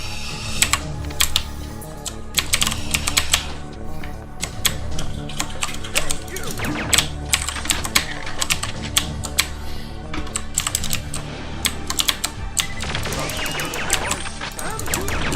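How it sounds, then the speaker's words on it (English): Rapid, loud clicking of keys on a mechanical computer keyboard during gameplay, bursts of typing running almost continuously, close and prominent over faint background sound. "My keyboard is mechanical, so apologies if the clicks are annoyingly loud."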